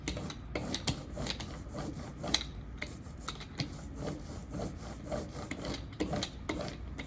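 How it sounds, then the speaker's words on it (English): An ink roller rolls back and forth through tacky printmaking ink, a crackly, Velcro-like sticky rasp in quick repeated strokes, close and fairly faint with no talking. "now there's ink on this whole roller, and it's got that kind of Velcro-y sound if you listen"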